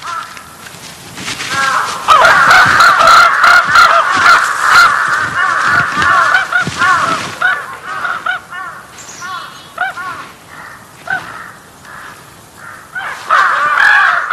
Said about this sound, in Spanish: Desde lejos los cuervos no parecen tan grandes